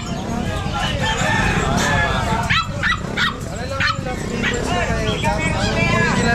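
A Great Dane barks repeatedly in a loud, close series of deep barks, mixed with a rooster crowing and other dogs, while people talk over the noise in an outdoor market setting.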